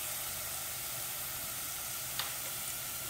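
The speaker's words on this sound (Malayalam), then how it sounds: "നന്നായിട്ട് ഒന്ന് ഇളക്കി കൊടുക്കാം. ഇതിൻ്റെ ഒരു പച്ചമണം മാറുന്നവരെ ഇളക്കി കൊടുത്താൽ മതിയാകും." Crushed ginger and garlic sizzle steadily in a pan for a prawn and raw mango curry, a constant fizzing hiss with one brief stir scrape partway through and no talk.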